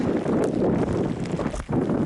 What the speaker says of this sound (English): It's wet, it's windy, it's cold on the Roan Highlands of the Appalachian Trail.